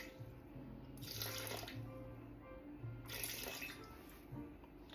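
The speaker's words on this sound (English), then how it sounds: "I'm going to add in another 500 grams of cold water" Cold water pours into a Thermomix bowl while making butter, two gushing bursts a couple of seconds apart with splashing and trickling between them, fairly close and quiet against a soft room hum.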